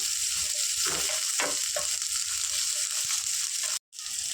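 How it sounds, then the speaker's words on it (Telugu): Vegetables fry in a hot pan with a little ginger garlic paste while being cooked for a white sauce pasta, giving a steady loud sizzle with a few stirring scrapes and one very brief break near the end. "ఇవన్నీ వెజిటేబుల్స్ ఒక ట్వంటీ పర్సెంట్ ఫ్రై అయిపోతున్నాయి కదా"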